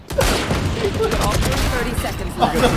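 A fast flurry of gunshots crackles in a competitive shooter video game, loud and sustained over nearly three seconds, while a commentator's voice runs underneath.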